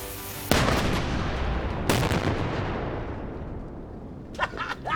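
Gunshots at a Wild West show: two loud, booming shots roughly a second and a half apart, each followed by a long echoing decay, with faint voices and clatter near the end.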